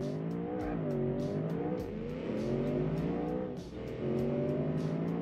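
Racing game cars, a wagon or Rancho against a manual-gearbox muscle car, roaring through revs with rising and falling engine pitch, repeated gear shifts and loud continuous motor noise up close, no talking.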